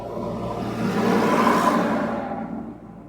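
A car swells in engine noise during a driving lesson as it gently gains speed, rising to a broad whooshing rumble midway, then fading off over about three seconds.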